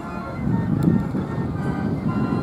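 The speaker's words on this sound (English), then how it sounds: "That lovely old Ruston just leaving," An old Ruston agricultural traction engine pulls away at a steam rally at South Cerney, its low rumbling chuff steady and fairly close, with faint crowd noise in the background.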